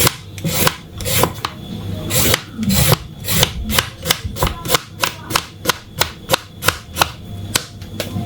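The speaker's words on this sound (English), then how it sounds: "So I'm just gonna peel off the skin." A vegetable is peeled for a salad with repeated rasping scrapes, at first irregular and then settling into a quick, even rhythm of close, loud strokes.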